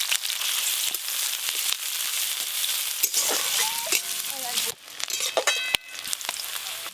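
Chopped onion sizzles in hot mustard oil tempered with nigella seeds, a steady loud crackling fry with stirring scrapes, joined midway by faint clinks and a brief tonal background.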